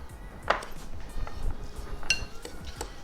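A porchetta herb paste being stirred with olive oil in a bowl, giving soft wet mixing with repeated clinks and taps of a utensil against the dish, close and fairly quiet.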